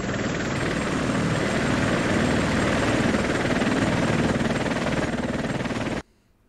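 Helicopter in the computer wargame WinSPMBT, Greece versus Turkey battle: a steady, loud rotor-and-engine drone holds evenly for about six seconds, then cuts off abruptly into near silence.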